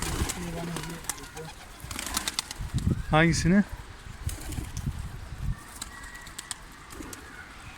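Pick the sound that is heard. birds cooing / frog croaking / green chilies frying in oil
birds cooing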